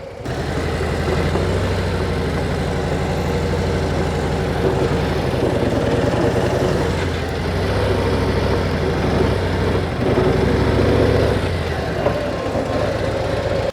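A motorcycle engine idles steadily while the bike is parked under a sign on a long-distance motorcycle trip, a loud continuous low rumble that holds almost unchanged throughout.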